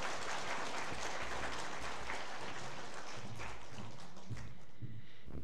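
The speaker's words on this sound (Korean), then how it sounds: "다시 한번 큰 박수로 한번 환영해 주십시오." A congregation claps in a dense, sustained wave of applause during a Korean Sunday church service, a steady crowd sound with no voices over it that eases slightly toward the end.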